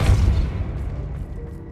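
A Depulso spell blast in Hogwarts Legacy on PS5: one heavy, low boom that swells at once and then rumbles away over under two seconds.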